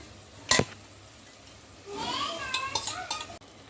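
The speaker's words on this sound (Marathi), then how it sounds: "आता ही 6 अंडी मी फेटून घेतलेली आहे, ती घालत आहे त्याच्यात." Beaten eggs, six of them, poured into oil-roasted masala in a pot for egg biryani, then stirred: a sharp utensil clink, then a scraping, clattering stir with metal taps, moderately close.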